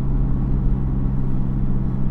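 Hybrid car engine labouring in fifth gear on the A57 Snake Pass, a steady low droning rumble heard from inside the cabin, continuous and strained with no speech.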